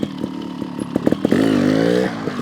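A GasGas TXT 300 trials motorcycle engine runs close by in a backyard, popping at idle and then revving up into a sustained rising note before it eases off. The sound is loud and nobody talks.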